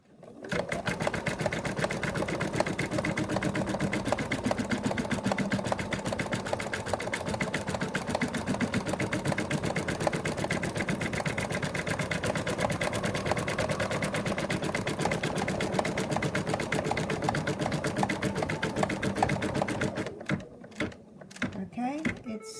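A sewing machine stitches a fabric toy cat, a fast even mechanical chatter running steadily for about twenty seconds before stopping, with a few scattered knocks at the end.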